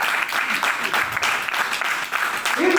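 Audience clapping steadily at a gathering honoring a guru, a dense wash of hand claps with a faint voice or tone rising near the end.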